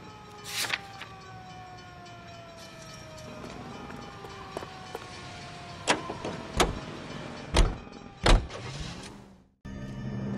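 A car driving in the video game L.A. Noire: a low, steady engine drone with tones rising and falling, several sharp knocks and thumps near the end, then a brief cutout before the drone resumes, with no talking.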